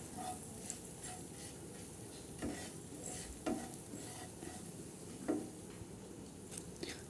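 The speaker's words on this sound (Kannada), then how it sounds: "ಇದನ್ನು ಸ್ವಲ್ಪ ಎಣ್ಣೆಲಿ ಹಾಗೆ ಫ್ರೈ ಮಾಡ್ಕೋಬೇಕು" Cumin, coriander powder and turmeric frying in a little oil, a faint continuous sizzle with occasional soft stirring taps and scrapes.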